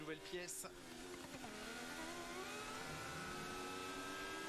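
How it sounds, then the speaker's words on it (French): Formula 1 car at Imola qualifying, picked up by an onboard microphone near the engine that is misbehaving, giving a steady whining, vacuum-cleaner-like drone with rising tonal sweeps, loud and continuous under commentary. "le micro près du moteur de Berman qui fait un peu des siennes, c'est le bruit un petit peu surprenant que vous entendez peut-être"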